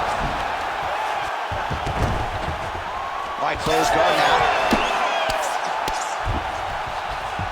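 Arena crowd noise in the UFC 5 video game, a steady roar that swells into cheering as the fighters return to their feet, under continuous commentator talk.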